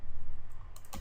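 Brief keyboard typing at a computer, a few quick key clicks entering a ping command, close and fairly quiet over a low background hum.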